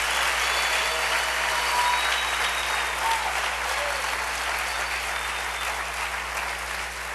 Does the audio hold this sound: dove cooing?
no